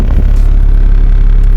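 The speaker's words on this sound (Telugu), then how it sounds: "ఈ రకంగా ఎందుకు సౌండ్ వస్తుందంటే ఇంజన్కి ఉండే బెడ్లు మొత్తం పోయినాయి" Heard from inside a moving car whose engine mounts are worn out and broken, a loud, steady low-pitched engine drone and rumble carries on throughout. No one speaks.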